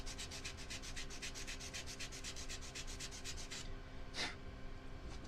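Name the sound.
sanding tool taking corner off a 3D-printed piece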